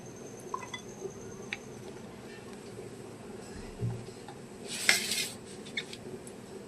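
Green chilies, ginger and garlic go into a cooking pan for a fish curry with potato and eggplant, giving scattered light clinks and taps of utensils and a brief sizzling burst near the end, fairly faint.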